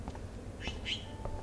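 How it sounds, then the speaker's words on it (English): A small bird trapped indoors in the game Life Is Strange gives a few short high chirps, quiet and spaced out over a low background hum. "That poor little bird has been trapped in here."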